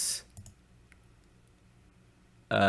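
A computer mouse clicks a few times, sharp and close, with a short cluster at the start, a couple of faint taps and a louder click at the end, with near silence in between.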